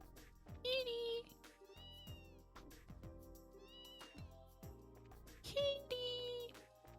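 A cat meows repeatedly in the game Trails in the Sky, with several drawn-out mews over faint music in the background.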